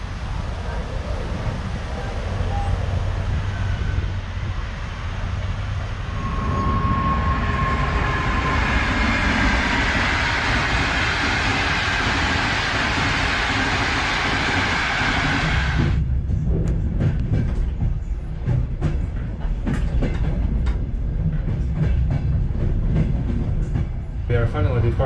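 A passenger train pulls out of Tashkent, Uzbekistan, heard from inside the last seat carriage, with a steady rolling rumble, a brief squeal and rattling wheel clatter building as it gets under way.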